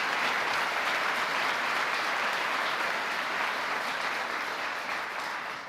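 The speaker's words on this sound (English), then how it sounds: "I hope all of us will give a big round of applause and a prayer to Danny Phillips" Crowd applause at a political rally in Michigan, a loud, dense wash of many hands clapping continuously, fading slightly toward the end, with no voices over it.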